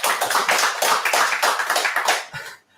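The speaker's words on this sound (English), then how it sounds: "here was a big applause in the audience for your fantastic German welcome" An audience applauds after a German welcome at an online tasting, a dense, lively burst of clapping hands that holds steady and then stops abruptly.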